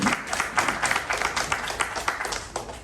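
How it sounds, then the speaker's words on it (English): Audience at a film and music festival claps for the co-host, a dense continuous burst of applause from many hands filling the room, with no voices over it. "Clap for her."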